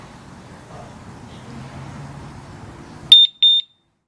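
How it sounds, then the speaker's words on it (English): An Empulse TT Urban UR6 alarm disc lock on a bike gives a sharp, loud beep followed by a second shorter beep as it arms, after a few seconds of quiet handling noise. "So it should beep again when it's armed."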